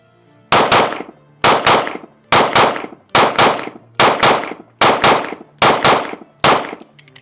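Rost Martin RM1S pistol fired at close range on a steel target in rapid doubles, eight sharp paired shots spaced evenly about a second apart, loud and near with no talking.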